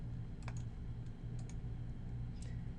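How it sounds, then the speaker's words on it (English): Fingers tap on a computer keyboard in a few small bursts of soft clicks, quiet and close, over a low steady hum with short gaps between keystrokes. "I can just type a new HPI comments"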